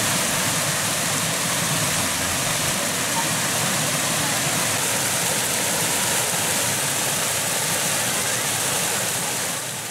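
Water pours over a weir beside a lake, making a steady, broad rushing noise that stays loud and constant throughout.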